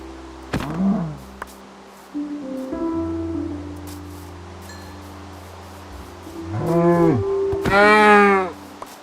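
Cows in Minecraft give several drawn-out moos at separate moments, the last ones loud and close, over a low steady hum with quiet gaps between calls.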